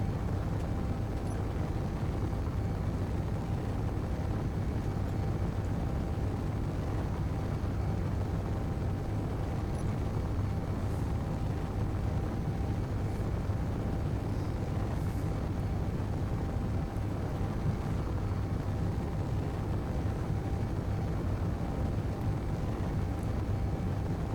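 Ion engines in Space Engineers give a steady, low, droning roar that holds evenly without breaks, like a constant thrust hum.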